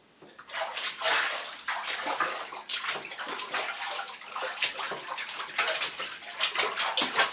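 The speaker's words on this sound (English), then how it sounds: "If you want to lose weight, folks, do your laundry in the bathtub." Laundry is washed by hand in a bathtub: water sloshes and splashes in repeated close surges as the clothes are worked, loud and continuous with no talking.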